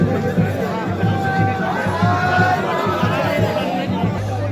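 Dense crowd of pilgrims at Kedarnath temple, a loud continuous babble of many voices pressing close together with shuffling and indistinct calls throughout.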